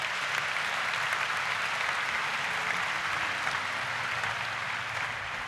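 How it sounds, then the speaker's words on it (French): Audience applause fills a large summit hall, a thick, continuous wash of many hands clapping together at steady volume, easing slightly toward the end. "Yes, if you want to clap, please."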